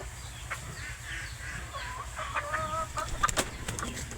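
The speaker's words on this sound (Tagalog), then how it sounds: "halo-halo po ang mga manok namin dito" Chickens clucking and murmuring close by, several birds of mixed breeds including Rhode Island Reds overlapping in short throaty calls, with a few sharper squawks toward the end.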